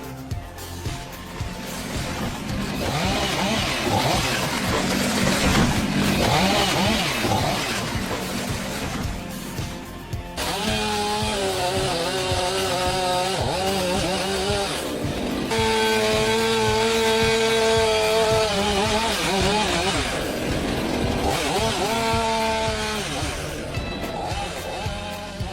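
A big chainsaw cuts through a tree, its engine snarling and revving steadily at close range, with pitch rising and falling as the cut bites, alongside continuous background noise.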